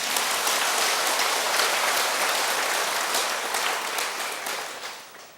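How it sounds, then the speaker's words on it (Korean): A large temple audience at a Buddhist monk's dharma talk gives dense, sustained applause that fills the hall evenly, then gradually fades out. "박수 한번 보내줘"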